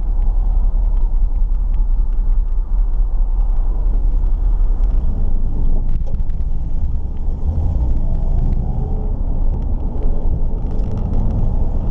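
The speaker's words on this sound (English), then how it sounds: "I reckon it is running a little bit rich, you might see it it's hunting a bit on, on warm idle." A 1968 Dodge Charger V8, running rich and hunting on warm idle, rumbles deep and steady up close, its low burble slightly uneven throughout, with no talking over it.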